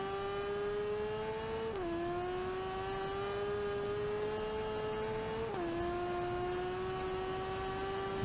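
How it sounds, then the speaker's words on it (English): A sidecar racing outfit's engine strains uphill at the Isle of Man TT, droning loud and close with a steady high-pitched whine that dips twice as gears change, with no talking. "You heard the engine straining."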